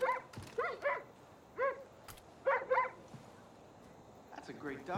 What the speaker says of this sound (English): That's a great dog right there.